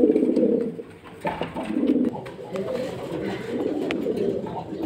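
Racer and Giribaz pigeons coo in soft repeated rumbling phrases at a pigeon market, close by, with people talking in the background.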